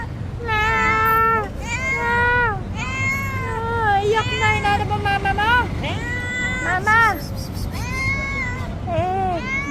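A hungry cat meows repeatedly in a rising and falling series of loud, close cries, some drawn out into wailing calls, with people talking softly in the background.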